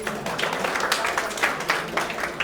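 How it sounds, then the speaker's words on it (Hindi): Audience applause at a motivational seminar at Rohini Wonder World, a crowd clapping loudly and steadily in dense, rapid bursts close by throughout. "अपने लिए जोरदार ताली होगी"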